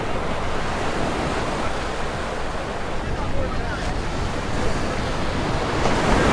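Steady, broadband roar of surf washing onto Laguna Beach, California, continuous and fairly loud, with no voices over it.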